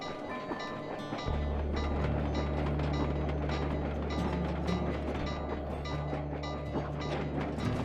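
A train ride in the Sly Cooper 2: Band of Thieves video game starts after a second of game ambience with a steady low rumble and rolling rail noise. It continues loud and unbroken to the end, with no talking.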